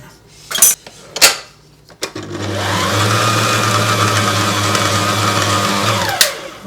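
An electric mixer blends the ingredients for an Italian pâté (Il Monte Rose recipe) in a home kitchen, running as a steady loud whir for about four seconds after a few clinks of a spoon against the bowl, then cutting off.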